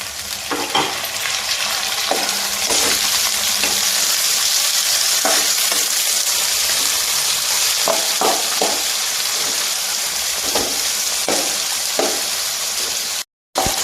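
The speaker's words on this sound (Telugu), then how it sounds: "క్యారెట్ కొంచెం మగ్గిన తర్వాత క్యారెట్ అనేది తొందరగా మగ్గిపోతుందండి తర్వాత మనం టమాటా ముక్కలు వేస్తున్నానండి" Carrot and tomato pieces frying for carrot rice give a steady, close sizzle with repeated stirring scrapes and clinks of a utensil in the pan, continuous throughout with no talking.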